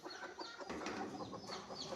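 A hen clucks close by among chicks and ducklings, her soft repeated clucks rising over a faint background of peeping and farmyard noise.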